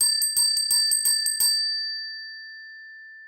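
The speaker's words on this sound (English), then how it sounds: "It's amazing how the ringing of that bell really does make you pause." A small hand bell is shaken in a quick run of bright rings lasting about a second and a half, then one clear tone rings on and fades slowly.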